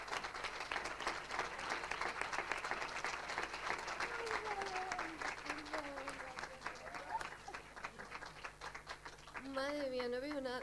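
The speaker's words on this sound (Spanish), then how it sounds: "un aplauso a todos a Eugenia Red." Audience applauding at an awards gala, dense sustained clapping filling the room for several seconds, with a voice talking over it near the end.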